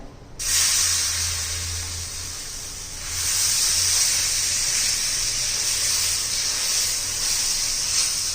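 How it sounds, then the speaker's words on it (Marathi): A loud, steady hiss of batter sizzling on a hot iron griddle carries on without a break, swelling a little partway through. "तर आता हे आपण बॅटर घालून घेऊया"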